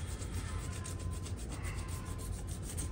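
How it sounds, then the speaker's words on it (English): Abrasive scuffing across the aluminum mating surface of a Walker mower gearbox where an old gasket was removed, a rhythmic back-and-forth rasping rub repeated in quick strokes, close and steady, no voices. "I'm going to scuff this side too"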